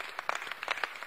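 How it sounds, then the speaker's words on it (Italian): Applause fills an Italian parliament chamber, a brief burst of many hands clapping at moderate volume with no voices over it. "Un grande applauso!"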